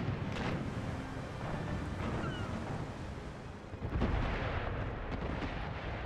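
Ship cannons firing broadside in the naval battle game Empire: Total War, a continuous low rumble of distant booms over sea and battle ambience, with a heavier blast near the middle.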